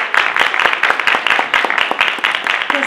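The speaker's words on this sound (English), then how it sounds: "One more round of applause for our incredible panelists tonight." Audience applause at an evening panel talk in a Boston museum, dense continuous clapping from a room full of people, loud and close, lasting throughout with no speech over it.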